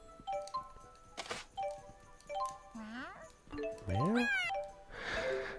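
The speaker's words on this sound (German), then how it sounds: "meine Katzen sind wieder da" Cats meow repeatedly in the Tales of Xillia 2 video game, several rising and falling cries spread across the moment, fairly close and clear over soft game background sounds, with no talk over them.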